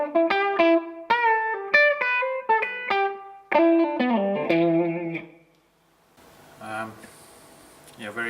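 Electric guitar run through a subtle reverb pedal, a string of plucked notes and chords ringing with a light tail, then a short pause before quieter noisy playing at the end.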